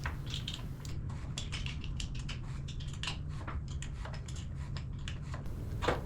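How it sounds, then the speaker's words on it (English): A ratchet and wrench click in quick repeated bursts while removing the rear shock mounting bolts on a Surron Ultra Bee electric dirt bike, close and moderately loud over a steady background hum. "using a ratchet and a wrench, take out each bolt, working from the top to the bottom"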